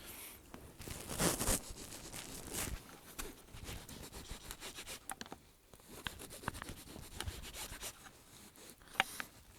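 Firebird FH922PT pocket knife slicing a small loaf of slightly stale black bread, a close, quiet rasping and crunching of the blade through crust in uneven strokes.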